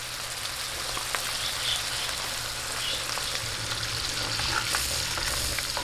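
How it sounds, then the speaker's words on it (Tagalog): Ingredients for Filipino laing sautéing in a hot pan, a steady close sizzle and crackle of frying with faint stirring clicks, continuous throughout with no talk. "natin lang pong gisa-gisahin"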